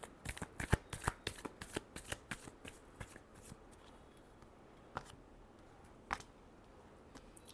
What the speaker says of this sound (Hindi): Sorry, last shuffle.